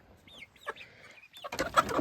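Young Rhode Island Red, Ameraucana and Wyandotte pullets in a chicken run give a few soft, close chirping clucks, followed by a brief burst of rustling.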